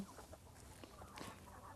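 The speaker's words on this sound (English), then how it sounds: "these little speckled ones here are kind of interesting. Those are called guinea hens." Speckled guinea hens cluck and chatter faintly inside a chicken coop, several birds calling in short, scattered bursts over a soft, busy background.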